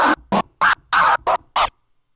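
Six short bursts of DJ vinyl record scratching in quick rhythmic succession, close and fairly loud, followed by silence.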